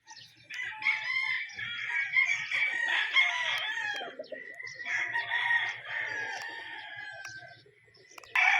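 Roosters crow repeatedly over a flock of clucking chickens, the calls loud and close, overlapping in long drawn-out phrases.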